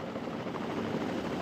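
Helicopters fly around in the video game Jurassic World Evolution 2, a steady whirring rotor drone that holds evenly through the moment with no voices over it.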